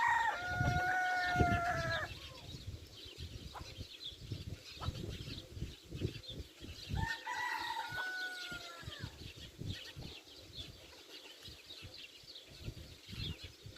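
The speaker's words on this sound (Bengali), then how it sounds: "সৌদি আরবের এটি একটি মুরগির খামার" Chickens cluck and scratch nearby on a Saudi Arabian poultry farm while roosters crow twice, a long crow early and another midway, over a busy outdoor farmyard background.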